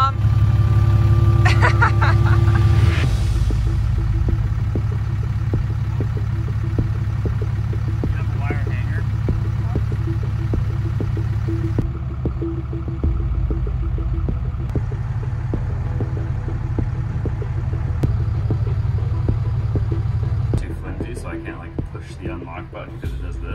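An older truck idles with a low, steady engine rumble that runs throughout, partly under people talking nearby, ending with a brief rattle of other noise.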